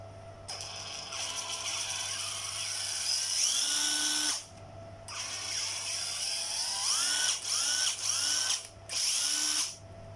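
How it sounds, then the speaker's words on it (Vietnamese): Japanese cordless hydraulic (oil) impact driver hammering in three long loud bursts with short pauses between them, a steady high whirring rattle with pitch shifts, heard alone with no talk. "Tại vì búa dầu cái tiếng búa nó sẽ hạn chế tối đa cái tiếng ồn luôn"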